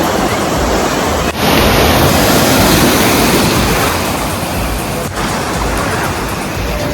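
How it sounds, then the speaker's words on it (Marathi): Sea waves roll onto the beach at Ganpatipule in a loud, steady wash of surf that fills the air without pause, heard close with no voices. "लाटाचा आवाज आहे"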